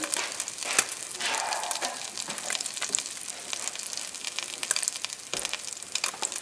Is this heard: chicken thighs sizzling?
yes